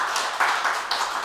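Church congregation applauding, a short burst of close, steady hand-clapping from a group with a few sharper claps standing out.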